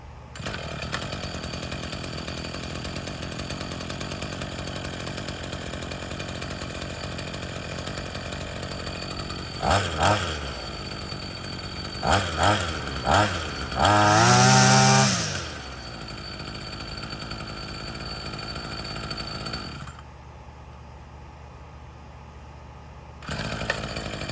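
A Chinese two-stroke engine on lawn equipment runs at a buzzy, steady idle, then revs in several short bursts and one longer high-pitched wind-up before dropping back and cutting out briefly near the end.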